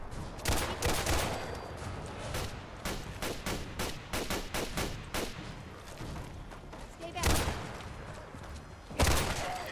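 Gunfire from shooting zombies in Fallout 4: rapid, loud, uneven volleys of sharp shots across the whole stretch, with short gaps and heavier blasts near the end; speech is faintly present.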